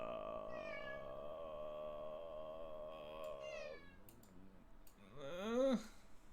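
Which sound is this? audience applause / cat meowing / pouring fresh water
cat meowing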